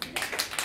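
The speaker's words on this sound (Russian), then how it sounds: "Аплодисменты." A small group claps at a casual gathering of friends, a brief burst of close, uneven hand claps.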